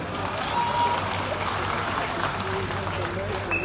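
A seminar audience in Haridwar claps together in a dense, steady burst of applause that fills the room and continues throughout.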